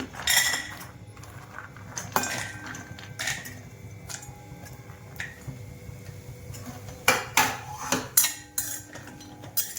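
Cashews are roasted in a pan, heard as a series of sharp metallic scrapes and taps of a spoon against the pan in irregular bursts, growing busier near the end, with no sizzle standing out.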